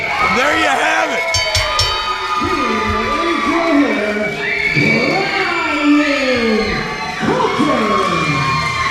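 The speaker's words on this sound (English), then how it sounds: "The crowd is losing their minds." A wrestling crowd roars and cheers loudly after a win, a dense continuous wall of shouting voices with excited commentary talking over it.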